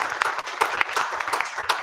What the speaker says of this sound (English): I'd like to give a round of applause to Benton Spradlin and Larry Davis.